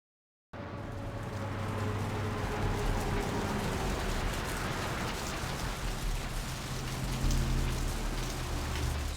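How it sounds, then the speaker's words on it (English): Rain falls in the video game Vampire: The Masquerade. After a brief silent start, a steady, dense patter of rain on surfaces continues at an even level, with a faint low rumble underneath. "Rain is the pungent sewage of hell, seeping into the cracks of this putrid purgatory."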